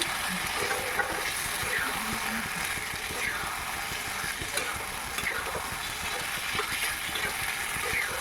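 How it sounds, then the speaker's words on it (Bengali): Steady close sizzling and scraping as Gobindobhog rice and boiled peas are stirred and fried in a pan, a continuous dense frying hiss throughout with no speech. "দিয়ে ভালো করে নেড়ে নিলাম।"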